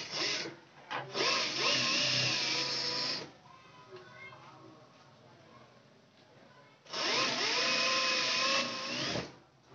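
A sewing machine stitches thread piping onto a blouse, running in two loud sustained whirring bursts with a quieter pause between them, close by.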